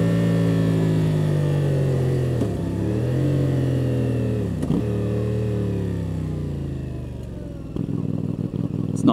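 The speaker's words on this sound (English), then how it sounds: "So just listen to that downshift." A 450MT motorcycle engine drops through gears, revs dipping and swelling between shifts, loud and close with a rumbling clatter.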